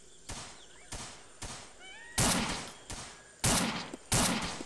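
Single gunshots in Arma 3 ring out in an irregular series, about seven sharp cracks, each with a decaying echo tail. The later shots are louder and closer.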